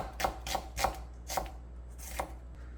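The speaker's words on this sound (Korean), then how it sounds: "채를 쓸으세요" A knife slices a quarter onion into thin strips on a cutting board, five crisp evenly spaced chops close by, with no talk.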